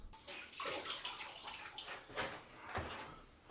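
A tiling sponge being rinsed in a bucket of clean water to wash off grout, giving close wet sloshing and splashing in several quick surges, with no voices.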